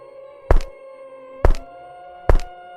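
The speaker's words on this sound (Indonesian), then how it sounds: "itu adalah suara pijakan kaki menyentuh ubin lantai." Three hollow thumps land at a slow, even pace against a quiet background with a faint steady hum.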